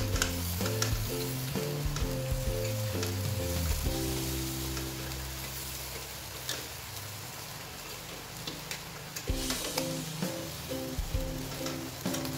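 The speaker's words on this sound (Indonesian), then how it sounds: "Dan kita panggang sampai dia benar-benar matang." Seasoned pomfret fish grilling, a soft sizzle with scattered crackles and pops heard close under a layer of background music that plays through the first part and returns near the end.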